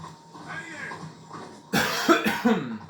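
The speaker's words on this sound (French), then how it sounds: "Je commence à tousser." A few sharp, harsh coughs burst out close by after a stretch of quieter breathing and murmuring.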